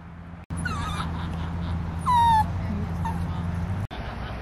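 At an outdoor dog park, a dog whimpers and lets out thin, high yips in a few separate bursts, heard moderately close over a steady low background rumble, with no speech in between.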